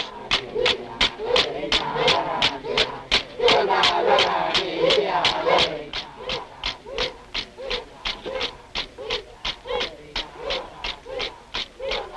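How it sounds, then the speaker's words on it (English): Cockatoos give a long series of harsh, rhythmic screeching calls, loud and close, with a denser overlapping flock chorus at first before settling into a steady repeated squawk. "These are cockatoos."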